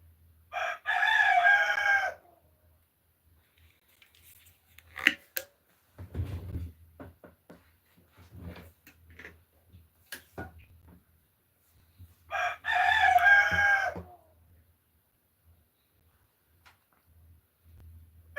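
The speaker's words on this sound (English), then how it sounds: "Stupid chickens, huh, Nala?" Chickens on a farm crow loudly in two clear bursts, one near the start and one later, with scattered clucks and soft rustling in between.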